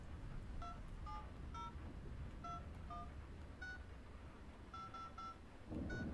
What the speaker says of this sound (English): I called Kentucky Route Zero on the phone, live.